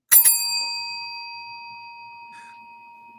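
A bell sound effect chimes on a podcast-style talk show, a bright struck ding that rings out and slowly decays over several seconds, with a faint second tap partway through.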